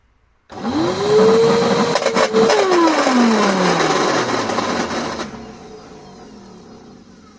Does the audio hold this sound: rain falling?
no